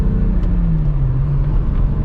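A VW Corrado with a swapped-in manual transmission runs close by after sitting unused, a loud steady low rumble with a brief rising engine tone partway through.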